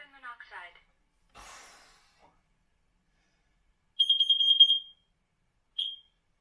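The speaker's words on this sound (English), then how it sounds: "Once you've had the four beeps and a chirp, that's the end of its cycle and it's all ready to go." A Kidde combined smoke and carbon monoxide alarm sounds a rapid run of loud, piercing beeps after being reset, then one short chirp a moment later, with brief speech and a clatter just before.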